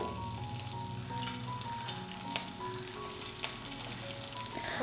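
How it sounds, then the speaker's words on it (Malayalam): Small pieces of bread pakora dropped into hot oil, a constant bright crackling sizzle with faint tonal clinks and two sharper pops, heard alone without speech. "നമ്മുടെ എണ്ണയൊക്കെ ഇപ്പോൾ നല്ലതുപോലെ ചൂടായിട്ട് വന്നിട്ടുണ്ട്. ഇനി നമുക്കിതിലേക്ക് ഓരോ പക്കോടയായിട്ട് ഇട്ട് കൊടുക്കാം."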